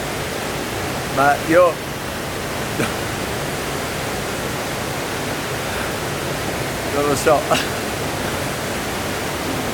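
A strong river current rushes in a steady, loud broadband roar that never lets up, while a few people speak briefly over the water.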